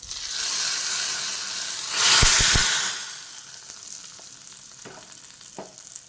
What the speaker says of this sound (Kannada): ಈಗ ಒಂದು ಒಗ್ಗರಣೆ ಕೊಡುವ.